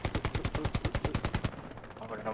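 A rapid burst of automatic gunfire in the video game Hell Let Loose, about a dozen evenly spaced shots over a second and a half, then cutting off into quieter background noise.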